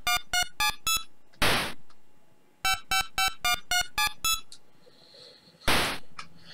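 Phone dialing beeps from the Bill & Ted NES video game sound as two runs of short, evenly spaced electronic tones, each run closed by a loud burst of static-like noise, with no talk.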